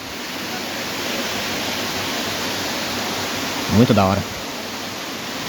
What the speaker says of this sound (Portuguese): Chegamos aqui na cachoeira.